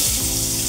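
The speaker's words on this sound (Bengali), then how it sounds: "আলুগুলো ভেজে নেব।" Potatoes spit and sizzle in hot oil, a brief steady hiss heard up close with no voices.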